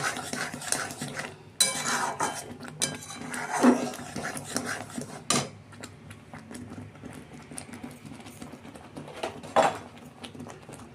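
A spoon stirs roasted semolina and grated coconut in a pan for a coconut sweet. Close, irregular scrapes and clinks of metal against the pan come in bursts, with quieter stretches between them.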